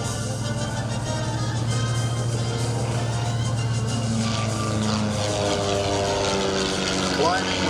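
A Christen Eagle aerobatic biplane with a 200 horsepower engine drones steadily overhead at an air show, its propeller hum continuous and moderately loud throughout, with a commentator's voice running over it.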